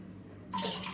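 About two glasses of water poured into a pot in a home kitchen: quiet room tone, then a sudden burst of splashing, rushing water that continues loudly to the end, with no talk.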